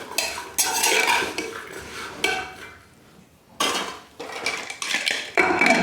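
A spoon scrapes and clatters against a metal pressure cooker in bursts of stirring salt into beans, with short pauses between, close and fairly loud.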